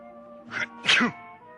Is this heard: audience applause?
no